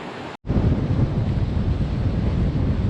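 Northeast Margaree River running strong near its headwaters in the Highlands, a steady broadband rush of flowing water that stays loud and constant after a brief dropout at the start.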